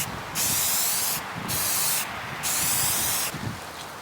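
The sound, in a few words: spraying brake cleaner on go kart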